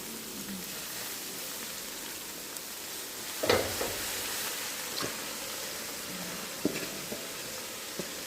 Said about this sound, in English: So now we're going to put our veggies in.